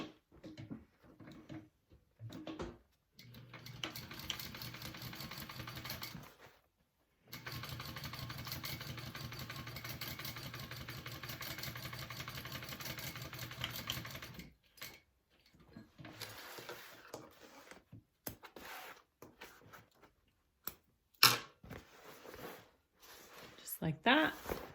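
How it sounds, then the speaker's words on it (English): A sewing machine stitches a second row on a Lomexa handbag, running in two steady stretches of a few seconds each with a short pause between, followed by scattered handling clatter and brief talk. "And I am gonna do that second little row of stitching."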